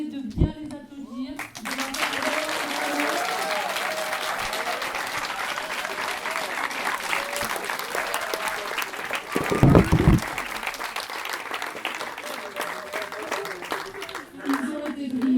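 An audience at a middle-school eloquence contest in Trois-Bassins claps warmly for the student speakers, sustained applause filling the room for over ten seconds while a voice speaks over it.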